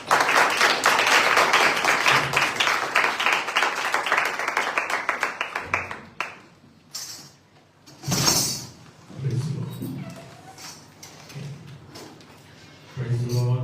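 Church congregation clapping during a Hindi-language service, a quick rhythmic patter of many hands for about six seconds that then stops, followed by a preacher speaking with occasional thumps.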